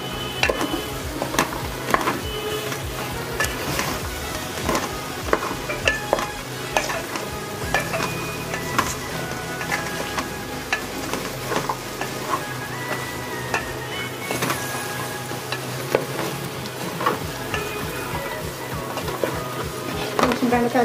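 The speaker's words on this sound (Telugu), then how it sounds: "కొంచెం బెండకాయలు ఫ్రై అవ్వాలి." Okra and raw mango pieces fry in a pan for a dried-fish stew, giving a steady sizzle throughout. Frequent scrapes and clicks of a stirring spoon sound up close, and a voice talks now and then.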